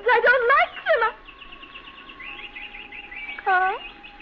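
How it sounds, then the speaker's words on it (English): Caged birds in a classic horror audio drama recording, loud tonal chirps and warbling calls close by, with a sustained whistle-like note between bursts. "You pulled the covers off the cage. Carl? Carl, I'm speaking to you. Those birds, I don't like them."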